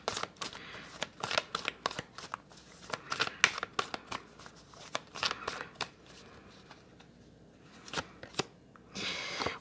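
Tarot cards being shuffled and handled for a reading, with rapid close riffles and sharp slaps in irregular bursts and soft shuffling between them.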